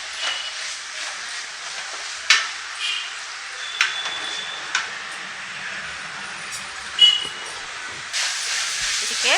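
Onions fry in a pan for a dry chicken masala, a steady high hissing sizzle with occasional sharp clinks and scrapes of a utensil against the pan.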